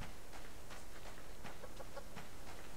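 A chicken clucks in short repeated bursts in the survival video game Subsistence, set outdoors at a base, moderately close over a steady ambient background.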